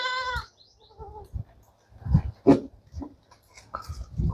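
Goats bleat in short, separate cries at close range, several calls spaced irregularly amid quiet gaps and faint scuffling.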